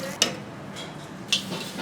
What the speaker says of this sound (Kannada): ಒಗ್ಗರಣೆಗೆ ಒಂದೇ ಒಂದು ಈರುಳ್ಳಿ ಹಚ್ಕೊಂಡಿದ್ದೀನಿ